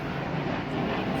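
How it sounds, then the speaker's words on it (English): A fixed-wing airplane passing overhead gives a steady, loud broadband roar that fills the short moment with no voices. "Here comes another plane."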